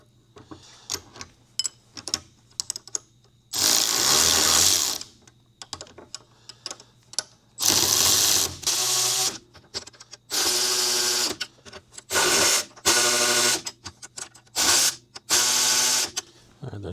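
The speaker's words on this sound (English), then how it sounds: "just tighten them as you would any 11/16 bolt into steel" Bolts of 11/16 size are driven into steel during suspension reassembly, giving repeated loud bursts of an impact or power tool separated by short pauses and small clicks.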